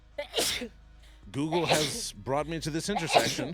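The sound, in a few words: sneeze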